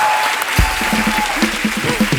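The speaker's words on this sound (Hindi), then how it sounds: "एक बार जोरदार ताली हो जाए" Studio audience bursts into applause on a Hindi comedy show, a dense, steady clapping wash filling the whole moment with faint crowd murmur underneath.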